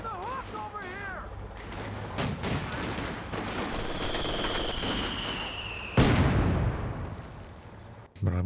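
Rifle grenade and machine gun fire in Company of Heroes 2, with sharp bursts and heavy blasts layered over continuous battle rumble and one loud explosion late on, while a commentator talks throughout.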